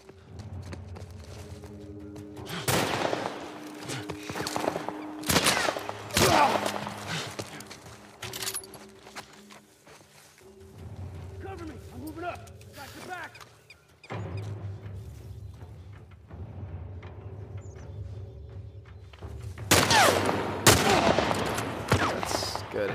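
Bursts of gunfire in The Last of Us Part I, several loud sharp shots spaced irregularly over a quiet, low game ambience with faint movement sounds between them.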